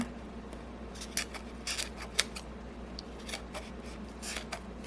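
Scissors snip away excess paper from a handmade shaker card in a handful of short, faint, crisp cuts, close by in an otherwise quiet room.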